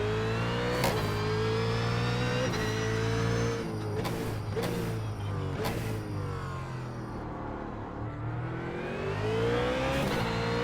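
A BMW Z4 GT3 race car engine in iRacing at the Nurburgring, droning loudly and steadily with pitch rising through the gears, sharp shift cuts and revs falling and climbing again, alone without talk.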